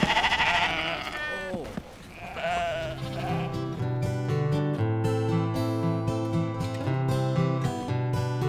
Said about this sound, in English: All of these domesticated sheep were videotaped by Jonathan Snackwell.